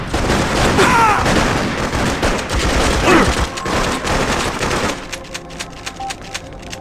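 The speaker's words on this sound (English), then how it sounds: "They're shooting at us!" Rapid bursts of machine-gun and rifle fire crackle loudly in the video game EA Freedom Fighters, dense volleys for several seconds before thinning to scattered, fainter shots.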